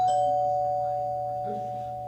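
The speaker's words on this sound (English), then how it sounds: "Aren't you gonna answer the doorbell" A doorbell rings during a one-act stage play, a single clear electronic tone that rings out and slowly decays, with faint voices murmuring underneath.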